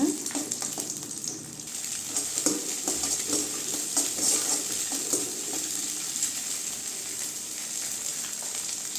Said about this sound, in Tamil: முட்டையை சேர்த்து நல்லா கிண்டிக்கலாங்க